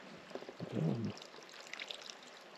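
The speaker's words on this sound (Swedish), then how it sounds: "Jag tyckte jag hörde att det porlade någonstans." Soft water trickles and pours steadily in the background in a cloudberry bog wetland in Sweden, with a short louder gurgling splash early on and faint handling noises.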